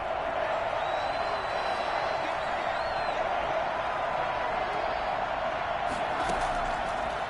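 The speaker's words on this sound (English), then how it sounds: "The crowd getting into it as we come up on a big 3rd down" A football stadium crowd before a big third down in an ISFL game, a steady, dense roar of many voices with scattered whoops, loud and continuous throughout, with no distinct clapping.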